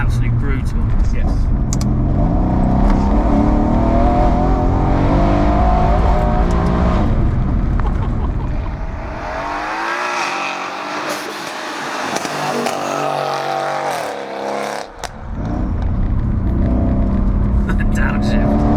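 An 830 bhp Mercedes C63 AMG accelerates hard in third gear, its engine roaring loud and rising in pitch from inside the cabin, then a shift and a brief dip before the roar resumes, with people talking over it.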